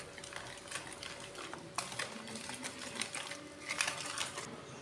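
Half a cup of oil whisked briskly in a bowl for a semolina cake, giving a quick, continuous rhythmic clatter and swish of the whisk, close and fairly quiet with no talk.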